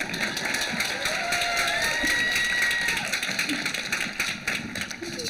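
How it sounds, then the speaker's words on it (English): An audience at the Rancho Campana High School 2023 commencement ceremony breaks into steady applause and light cheering, a broad wash of clapping from many hands in a large outdoor space, with some whistles. "You can clap, it's okay."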